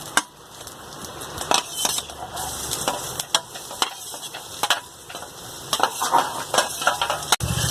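Okra hits hot oil already holding fried chillies, giving a close, crackling sizzle under repeated scraping and clattering stirring strokes against the pan, with no voices.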